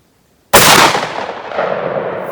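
A 10 gauge shotgun firing a Fury Custom Foster slug at a range, one sudden, very loud blast after silence, followed by a long rolling echo that slowly fades.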